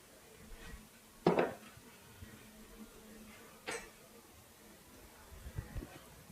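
A heavy dish of macaroni and cheese clunks onto an oven rack, giving a sharp metallic knock followed by a softer second bump and small rattles, with a person speaking nearby.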